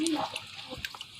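Pet rabbit being bathed in water on a hot day, with close splashing and dripping under a person's voice.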